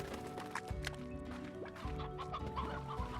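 A hen clucks repeatedly in the Slime Rancher video game, with short rhythmic clucks and a rooster-like call over a steady in-game background hum.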